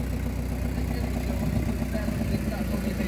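A family car's engine idles nearby with a steady, low, continuous rumble, and someone speaks over it.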